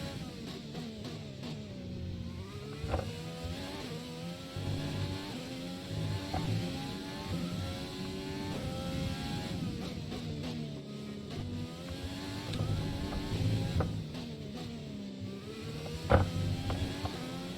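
An F1 race car engine in F1 2020 on the Russia circuit, its high whine rising and falling through repeated gear changes and revs, loud and close throughout with no speech over it.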